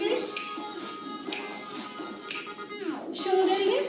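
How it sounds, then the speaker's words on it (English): Finger snapping from a group performing a movement routine at an annual gala, a series of sharp, bright clicks repeating roughly every second over a busy background of music and voices. "Snap your fingers."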